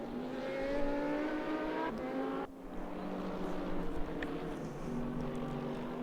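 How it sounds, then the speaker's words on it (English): Race car in a racing video game at the Zhuhai circuit braking hard into a hairpin, its engine note dropping sharply mid-clip before steady engine drone resumes, loud and continuous with no talk. "Hard braking into the hairpin."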